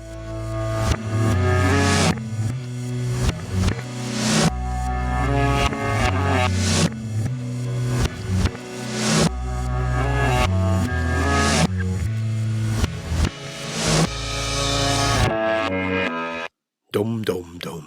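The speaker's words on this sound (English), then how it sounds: "Listen out for the twangy guitar part." A 2015 song by an artist from Lexington, Kentucky, featuring a twangy guitar part over a steady full-band groove with pulsing bass and drums, loud and continuous, dropping out briefly near the end.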